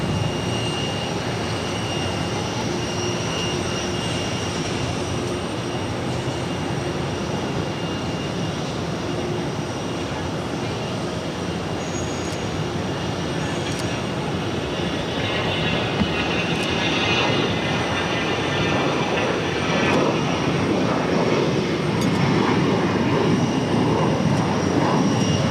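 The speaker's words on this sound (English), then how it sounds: "we're going to be seeing the A340-600 with Lufthansa, going to be arriving on 22 left coming up." A Lufthansa Airbus A340-600 arrives on runway 22 left at Boston Logan, heard as a steady, broad jet roar, fairly distant at first and swelling slightly louder toward the end, with no talk over it.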